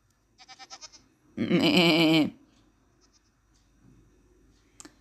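Minecraft goats bleat: a quick run of short, evenly spaced bleats, then one long, loud, wavering bleat, followed by near silence and a faint click.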